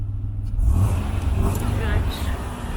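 A Chevrolet Camaro engine idles with a steady low rumble, a brief swell of revving near the start, while people talk over it close by.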